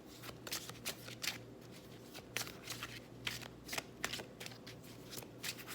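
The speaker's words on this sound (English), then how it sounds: "Do a quick shuffle with this" A deck of tarot cards is shuffled quickly and close up, with rapid bursts of papery riffling and flicking repeating in uneven rhythm.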